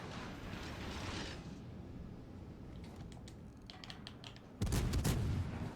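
Naval guns fire in World of Warships Legends during a blind shot through smoke, a loud broadband salvo bursting in near the end after a stretch of rumbling battle noise and scattered crackles.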